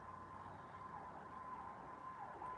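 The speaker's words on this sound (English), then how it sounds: "there's a siren about to go by." A siren wails faintly in the distance, a steady high tone with a slight dip, over low background rumble.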